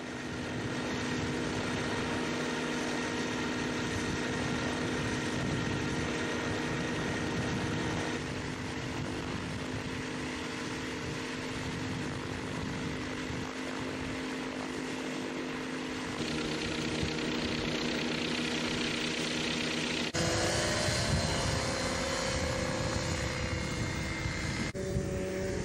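A light aircraft engine running steadily on the ground during testing in the Arctic at Resolute Bay, a continuous loud propeller drone that shifts in pitch and intensity a few times, with no voices.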